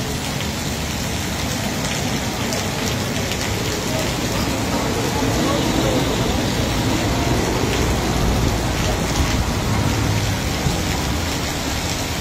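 Steady rain falls over Multan, a dense, even hiss of drops striking surfaces that holds at the same loudness for the whole stretch, with no break or lull.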